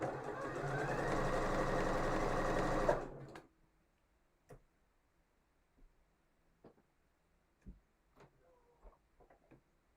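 A domestic sewing machine stitches fabric in a steady, fast mechanical whir for about three seconds, then stops, leaving quiet room tone with scattered faint clicks and taps.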